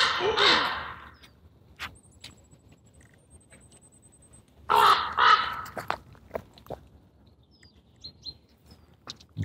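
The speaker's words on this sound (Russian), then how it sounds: "Какая-то ворона орет безумно." Loud crow caws in two bursts, harsh and repeated, with a quieter stretch of outdoor ambience between them and a few sharper calls near the end; crows chasing an owl.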